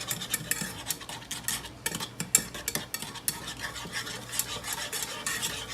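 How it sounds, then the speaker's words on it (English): Rapid, steady whisking of a glaze in a pot on the stove over medium-high heat: continuous quick metallic strokes and scrapes, close and moderately loud, with no voices. "I'm going to mix it together with a whisk"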